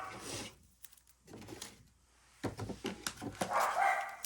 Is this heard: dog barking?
yes